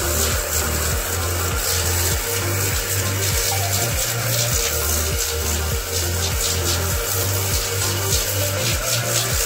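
A battery-powered pressure washer gun sprays water onto a cow, giving a steady, loud hiss of spray throughout, with a rhythmic low pulsing from the machine's motor beneath it.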